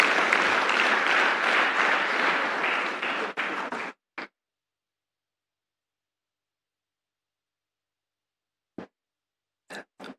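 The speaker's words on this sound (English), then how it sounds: "Please welcome Professor Okonedo with a round of applause." Audience applause greets a professor introduced at a university inaugural lecture, a dense burst of clapping for about four seconds that then stops, leaving near silence broken by a few faint isolated sounds.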